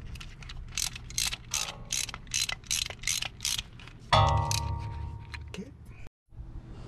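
Ratchet clicking in quick repeated bursts while the two screws are tightened on the rear brake of a 2016 Mazda 6 with an electronic parking brake, fairly close, followed by a brief clunk and hum.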